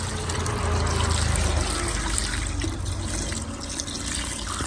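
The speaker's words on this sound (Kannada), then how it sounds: "ಸ್ವಲ್ಪ ನೀರು ಹಾಕಿಟ್ಕೊಳ್ತೇನೆ." Water is poured into a bucket of fresh cow dung, giving a close, continuous splashing trickle that gurgles for a few seconds with no one talking.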